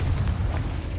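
A Confringo spell explodes in Hogwarts Legacy as a deep, rumbling boom that fills the whole second, loud and close, with no talking.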